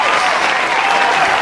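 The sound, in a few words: applause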